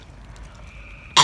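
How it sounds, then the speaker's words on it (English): A single short cough bursts out near the end after eating hot, spicy Pringles Scorchin' chips, following a quiet stretch. "Why are you coughing then?"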